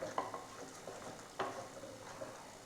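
Anchovy fish roast masala is stirred gently in a pan, giving a couple of soft scrapes and light clinks over a faint steady sizzle, quiet and close, with no talking.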